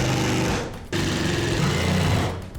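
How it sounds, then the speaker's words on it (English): A power drill drives screws to fix a mini split mounting bracket onto a wall in a converted old camper, whirring loudly and continuously with one brief pause. "I get the bracket that came with the kit and just screw it on."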